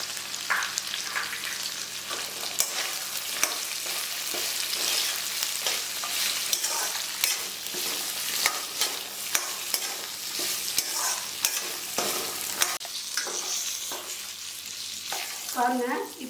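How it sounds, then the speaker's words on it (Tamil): Grated coconut and curry leaves are sautéed in a pan for a mushroom gravy: soft, constant frying sizzle broken by repeated scraping stirs of a spoon, close and fairly quiet. "பாருங்க இப்போ நல்லா வதங்கி வந்துடுச்சு."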